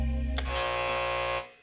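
A quiz show contestant's buzzer sounds as a sustained, loud electronic tone with a rich stack of harmonics, holding steady for over a second before cutting off abruptly.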